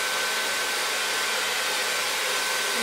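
A T-360 Smooth-air hair dryer blowing steadily as it dries delicate, wet hair held in a section, a continuous close, loud airy whoosh with no talking.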